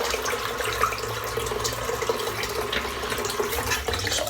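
Water splashes and gurgles continuously as a shaving razor sits in a sink of hot water, a steady close wash of running water for several seconds with no voices.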